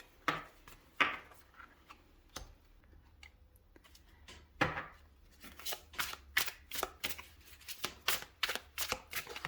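Tarot cards being shuffled by hand, close and quiet. Scattered soft riffles and taps at first build into a quick run of crisp, rhythmic card snaps toward the end, with no talking.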